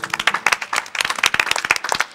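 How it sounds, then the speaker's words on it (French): Studio audience at a televised prophetic broadcast clapping, dense brisk applause from a small crowd, close and steady for about two seconds. "Vous pouvez vous applaudir."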